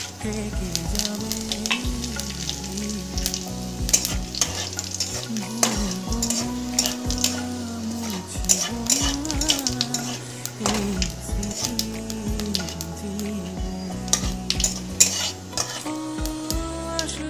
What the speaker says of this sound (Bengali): এবার তেল গরম হয়ে আসলে শুকনো লঙ্কা আর গোটা জিরে ফোড়নে দিয়ে দেবো